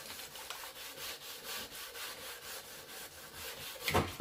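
Wet sanding of a fibreglass part with 220-grit sandpaper over primer, a quiet steady rasping in repeated back-and-forth strokes, close and alone, ending in a louder scrape.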